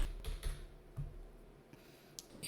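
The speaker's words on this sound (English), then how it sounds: "with my arrow keys in the keyboard" Arrow keys tapped on a computer keyboard, a handful of soft separate clicks at close range in a quiet room with no speech.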